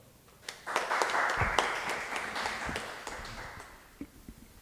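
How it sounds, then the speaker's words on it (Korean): Modest applause greets a speaker at an outdoor Hangul society rally at Gwanghwamun, swelling briefly then tapering off, moderately faint with a few distinct claps standing out. "큰 박수로 맞아주십시오"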